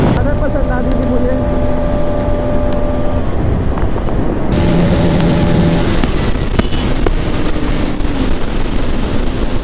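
Three motorcycles, a Pulsar NS200, an R15M and a Pulsar RS200, race at top speed in the dark, giving a loud, steady engine and wind roar close by, with someone talking over it.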